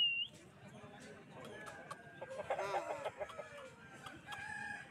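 A rooster at a village poultry market in Jhargram, West Bengal, a tall two-year-old bird near four kilograms, crows in a stretched, wavering call mid-clip among a brief high cry and steady crowd chatter, with people talking nearby.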